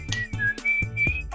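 A woman whistles a bright, melodic line from a song in several short sustained phrases over a soft rhythmic musical backing.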